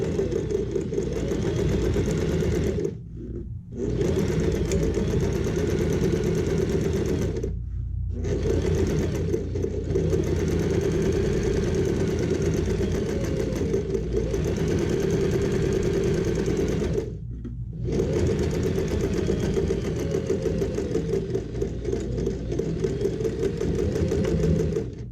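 Domestic sewing machine stitching the seam of a fabric pouch at 2.5 stitch length along a presser-foot margin, a steady close whirring run broken by three brief pauses.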